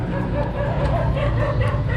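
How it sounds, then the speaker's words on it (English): A dog barks at strangers outside a rental house in Dumaguete City, Philippines, with rapid repeated yapping barks and whimpers at moderate distance. "we got a dog barking at us"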